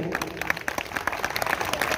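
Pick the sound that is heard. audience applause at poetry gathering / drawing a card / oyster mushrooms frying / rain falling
audience applause at poetry gathering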